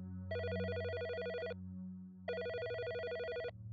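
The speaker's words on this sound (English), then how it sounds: "She began to phone Stacy's house" A telephone rings twice in a bright electronic double burst, each ring lasting over a second with a short pause between, clear and close over a low steady hum.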